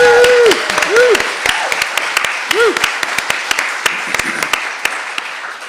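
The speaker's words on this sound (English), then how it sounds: "A round of applause for Shannon." Audience applauding a speaker at a talk, scattered claps rising over a voice that carries through the opening moments, then continuing as a thinner, uneven patter of hands.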